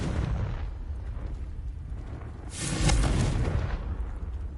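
A Confringo spell blast in the Hogwarts Legacy video game bursts out as a single loud, broad explosion about midway, rising above a steady rumbling game background and then fading away.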